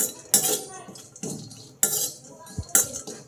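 A metal utensil clinks and scrapes against a pan while coconut is dry roasted, with three sharp, bright knocks spaced about a second apart over soft rustling.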